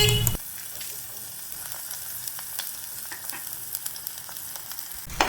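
Tomato and green chilli sautéing in coconut oil for drumstick leaves curry, a steady bright sizzle with light irregular crackles, framed by brief clatter at the start and end.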